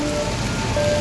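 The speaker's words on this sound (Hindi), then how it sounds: "भीषण बारिश और कीचड़ के बीच हादसा" Heavy rain pours steadily in an animated cartoon scene of a mountain flood, a dense continuous hiss with a faint low rumble beneath, loud and close throughout with no voices.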